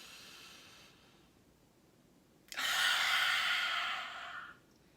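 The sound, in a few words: deep inhale during breathing exercise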